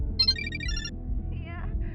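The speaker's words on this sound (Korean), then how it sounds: "전화 왔다." Phone ringing in a karaoke room: a bright electronic ringtone melody plays once, then shorter tones follow, moderately loud over a low background hum.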